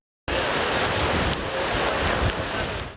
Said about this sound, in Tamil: இத்தாலியின் சிசிலி தீவில் கடல் சீற்றத்துடன் காணப்படுகிறது